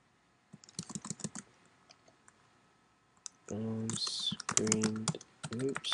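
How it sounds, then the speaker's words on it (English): A computer keyboard clatters with quick bursts of typed keystrokes, close and fairly soft, with a pause before a voice speaks over more clicking at the end. "Oops, I cannot type today."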